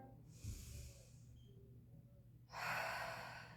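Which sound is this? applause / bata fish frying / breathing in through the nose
breathing in through the nose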